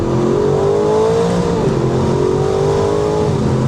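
A car accelerates with a laggy transmission, engine pitch climbing steadily, dipping at a shift, then climbing again, loud and close from inside the cabin under continuous road and engine roar.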